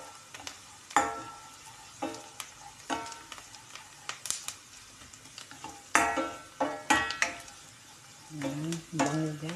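Garlic hits a hot pan already holding softened onions for a Filipino chicken-with-cream dish, sizzling and frying under repeated scraping strokes of a spoon against the pan, with clanks and brief pauses between stirs.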